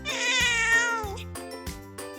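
A cat meows close by, one long rising-and-falling meow followed by a few shorter clipped meows, clear and loud with no talking.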